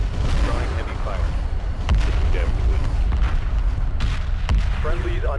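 Heavy weapons fire in the space strategy game Homeworld 2 Remastered: a constant low rumble of booms and blasts, with sharp impacts breaking through now and then. Voices talk over the barrage.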